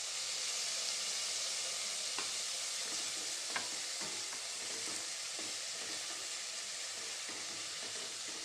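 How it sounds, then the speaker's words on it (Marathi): Onion and tomato sautéing in a pan for zunka, a steady soft sizzle running throughout with occasional light clicks of stirring, no voices. "एक ते 2 मिनटं टोमॅटो छान परतून घ्यायचा."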